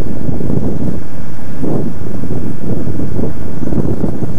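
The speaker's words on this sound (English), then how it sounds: "That's another reason why I bought a big bike for windy days, so I don't get blown around as much." Heavy wind buffets the microphone while riding a big motorcycle, a 2009 Kawasaki 650RL, producing a loud, continuous low roar that swells and dips throughout, with a voice speaking faintly underneath.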